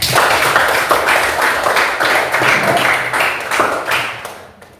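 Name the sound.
class clapping for everyone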